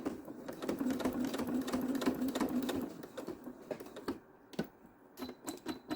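A sewing machine stitches across a scrap fabric key fob in a fast, steady mechanical patter, then slows into a few separate clicks and taps near the end, close and without talk.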